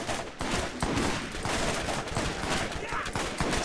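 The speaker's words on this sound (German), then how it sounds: "so kann ich schießen" Dense, continuous video-game gunfire in Borderlands, rapid overlapping shots crackling steadily throughout, with a voice talking over parts of it.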